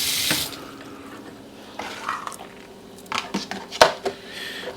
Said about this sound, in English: Some water in there.